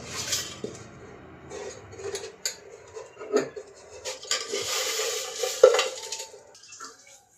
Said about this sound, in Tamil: கரண்டியில் இப்படி இப்படி கிண்டிக்கினே இருக்குது